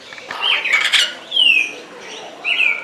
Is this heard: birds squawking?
yes